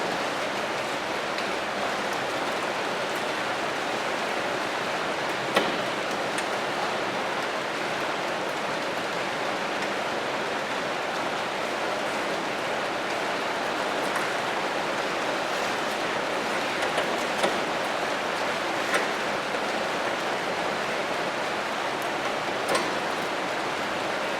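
Steady rain pours down evenly, a constant hiss with a few faint ticks and drips, no voices.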